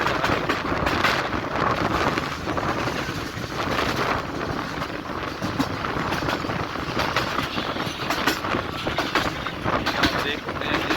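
A train passes on a railway line on the Multan to Lahore route in Pakistan. A steady loud rumble with a clickety-clack rhythm and wind buffeting the microphone lasts throughout.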